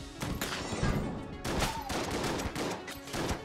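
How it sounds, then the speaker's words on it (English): Shotgun fire in the video game Enter the Gungeon: a dense run of loud, rapid blasts in quick succession, close and continuous throughout with no talk. "We'll use the shotgun first"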